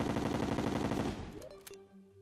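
Vortex Beater gun in Terraria firing in a rapid automatic burst, dense rattling shots for about a second before the fire stops and the game's quieter sounds remain.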